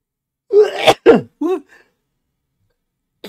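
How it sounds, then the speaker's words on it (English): A single sneeze, apparently acted out by a person's voice during a classroom math lesson, comes as a close, loud burst of a few quick breathy vocal sounds followed by silence. "Sneeze!"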